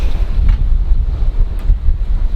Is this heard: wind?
yes